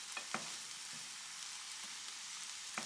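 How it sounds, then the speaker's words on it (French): Bell peppers fry in olive oil in a pan for a homemade ratatouille, giving a steady bright sizzle with a few soft pops and clicks, close and alone. "on rajoute un peu d'huile d'olive, on met nos poivrons"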